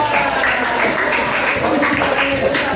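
Classmates in a school classroom clap for their peers, a dense, steady wash of many hands that stays fairly loud and close throughout.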